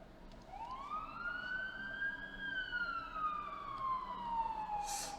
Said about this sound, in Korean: 오늘따라 사이렌이 많이 들리네.